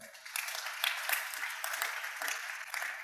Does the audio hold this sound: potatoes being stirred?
no